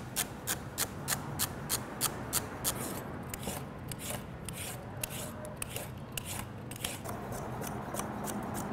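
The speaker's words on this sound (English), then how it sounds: "Get our carrot peeled up and diced down." A knife chopping a carrot on a cutting board while preparing barbacoa sauce, with a steady run of crisp, evenly spaced cuts followed by denser scraping and rustling, close and alone.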